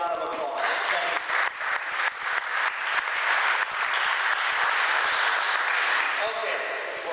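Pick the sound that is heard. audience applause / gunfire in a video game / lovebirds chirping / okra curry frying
audience applause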